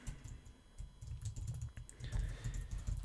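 Typing on a computer keyboard, with quick irregular key clicks in bursts over a few seconds, close and fairly quiet, with no talking.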